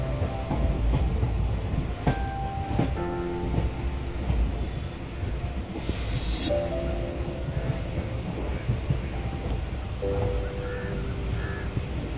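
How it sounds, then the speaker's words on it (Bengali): The Netaji Express (12311, Howrah to Kalka) rumbles steadily with low mechanical noise and wheel clatter, a brief hiss midway, rolling slowly into Gaya station. "গয়া স্টেশন ঢুকছে"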